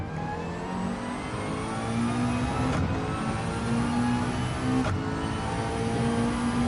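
A Gr.4 race car engine downshifting into fourth in Gran Turismo 7, a loud continuous engine drone with its pitch rising and falling and two brief breaks in the tone at the gear changes, close, with no talk.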